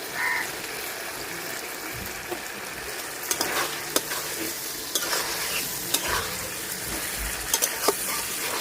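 Egg curry simmering in a pan after ground garam masala goes in, with a constant bubbling sizzle and occasional sharp scrapes and taps of a spatula stirring.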